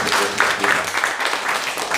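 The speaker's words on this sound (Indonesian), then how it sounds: "Jadi kasih tepuk tangannya yang luar biasa." A church congregation claps and cheers together during a service, a loud, busy wash of applause with bursts of voices mixed in.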